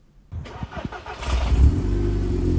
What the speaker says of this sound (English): here's what the car sounds like with the new Decat exhaust fitted.